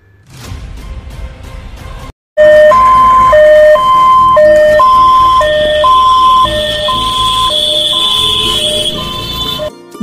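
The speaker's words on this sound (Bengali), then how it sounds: "টেকনোলজি সমৃদ্ধ অ্যাম্বুলেন্স পরিষেবা নিয়ে আপনার সেবায় হাজির" An ambulance siren wails in a loud, close two-tone pattern, alternating high and low notes in regular rhythm for several seconds after a brief rumble and pause.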